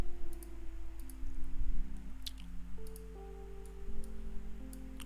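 Computer mouse clicks while working in rendering software: a few sparse, faint clicks spaced unevenly over a steady electronic hum, with no speech.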